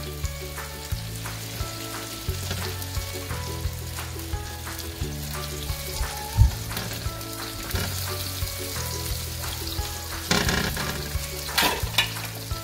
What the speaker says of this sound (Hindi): हम अपने टोटिया को भी सेक लेते हैं मैंने यहाँ इसमें मार्जरीन लगा दिया है